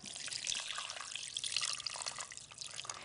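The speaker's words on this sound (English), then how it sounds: "Just need it covered with water." Water runs into a cooking pot holding star anise, a close, bright splashing and trickling stream that continues steadily with small fluctuations.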